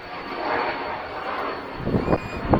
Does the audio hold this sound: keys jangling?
no